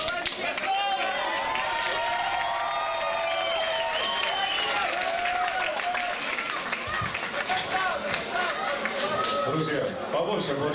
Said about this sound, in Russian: Побольше аплодисментов.